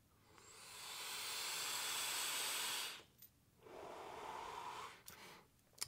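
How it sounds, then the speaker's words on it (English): A Voopoo Argus Pro vape is drawn on in auto-draw mode without the button, giving a long, airy hissing inhale of about three seconds, then a second, shorter drag, with brief exhale breaths near the end. "Now let's go ahead and vape it without pushing the button."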